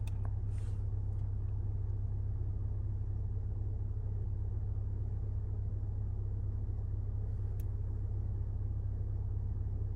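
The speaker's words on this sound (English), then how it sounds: "It's 4-wheel drive approaching the road up to Mount OXLEY." Steady low rumble of a four-wheel-drive vehicle heading up the road to Mount Oxley near Bourke, in outback New South Wales, a constant engine drone with a couple of faint clicks over it, no talk.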